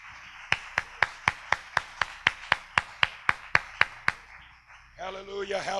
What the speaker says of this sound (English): clap your hands to Jesus Christ.